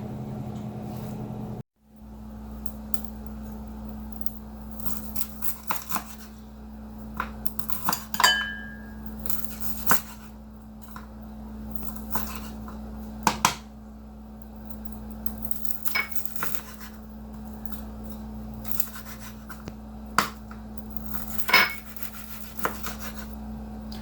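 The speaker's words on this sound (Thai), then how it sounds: "ไปตักใส่ถ้วยเสิร์ฟกันเลยนะคะ" Kitchen clinks and clatter of dishes and utensils while guay jub rolled noodle soup is ladled into serving bowls, intermittent light knocks of ladle against bowl over a steady low hum.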